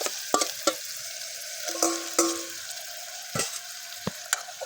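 Pork with vegetables stir-frying in a pan after water is added, a steady close sizzle broken by repeated scraping knocks of the spatula against the pan, with no voices.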